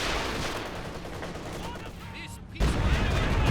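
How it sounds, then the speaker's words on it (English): A Stuka dive-bomber barrage in the strategy game Company of Heroes 2 sets off rapid, rumbling explosions and gunfire. A heavy blast hits near the end, with match commentary running under it. "Stuka barrage into the center. Pretty well avoided."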